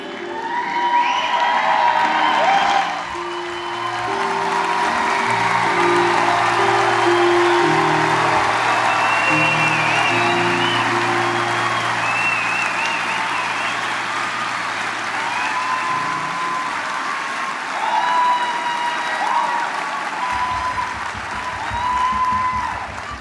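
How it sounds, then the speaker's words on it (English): A large crowd at the 2018 SMU Cox BBA commencement ceremony applauding graduates, sustained loud clapping mixed with cheers and whoops, with sustained music running underneath for much of the time. "One more round of applause for the 2018 graduates of the"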